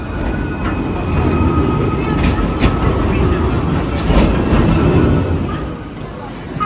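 Trams running along a long Istanbul street with tracks on both sides, a steady close rumble of rail traffic with faint metallic squeals, under busy street ambience.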